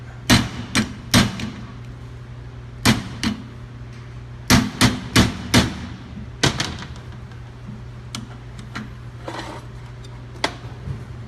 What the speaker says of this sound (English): just jam a screwdriver in here and just pound that thing out